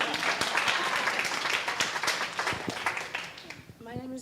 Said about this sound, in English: Yes, please clap for Andrea.